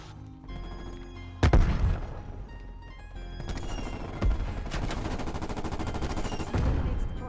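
A War Machine weapon fires in Call of Duty Cold War: loud, sharp launcher bursts and booming explosions stand out over background gunfire and game noise, with several heavy blasts spaced a second or two apart.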